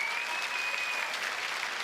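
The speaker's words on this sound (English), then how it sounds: "Give a round of applause again." Studio audience applause on a live football television show, a brief even wash of clapping at moderate level with a faint thin tone running through the first half.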